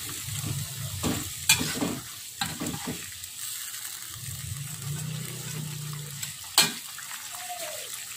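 Salted fish simmers in a spicy sour sauce in a pan, giving a steady bubbling sizzle broken by a few scraping stirs of a spoon, close and moderately quiet.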